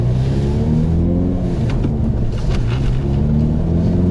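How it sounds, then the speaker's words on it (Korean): A Hyundai Veloster N with manual transmission revs with a deep, steady exhaust rumble, loud and close, rising and falling slightly over a few seconds with no talking. "배기 소리가 이제 달라지네"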